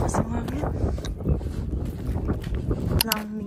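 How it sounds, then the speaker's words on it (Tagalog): Gusty wind buffets the microphone outdoors in a small town, a rough, rumbling roar that swells and dips steadily for a few seconds while a person talks nearby. "Oh, lakas ang hangin."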